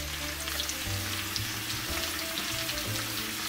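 Onions fry in pork tenderloin sauce in a pan, a steady close sizzle and bubbling with occasional stirring scrapes and a low hum beneath.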